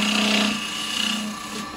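A carbide chisel cuts into sycamore wood spinning on a lathe for a vase, giving a loud, close, continuous scraping hum with a steady tone underneath. It eases off slightly toward the end.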